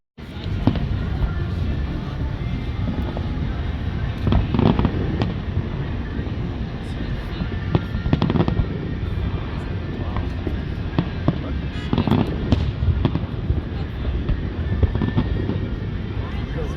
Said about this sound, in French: les feux d'artifice étaient vraiment beaux